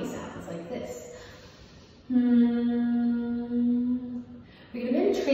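A person hums steadily to imitate a buzzing bee during a yoga class. The low, sustained drone lasts about two and a half seconds, and spoken instruction is heard before and after it.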